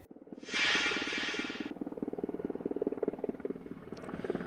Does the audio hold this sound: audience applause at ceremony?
no